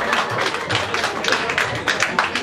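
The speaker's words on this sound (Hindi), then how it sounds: "तभी ताली बजा." A stand-up comedy audience in Dehradun applauds in a dense, steady wash of clapping that lasts the whole stretch, with a murmur of crowd voices mixed underneath.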